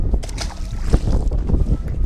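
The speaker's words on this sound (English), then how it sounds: "It is crazy, crazy windy out here" Strong gusty wind buffets the microphone outdoors by the water, a rough, rumbling roar with choppy bursts throughout.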